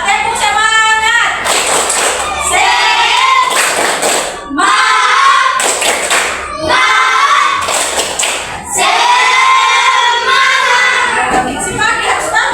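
A class does a rhythmic 'tepuk semangat' clapping chant, with loud bursts of group hand claps alternating with the children's chanting voices in a close, lively classroom.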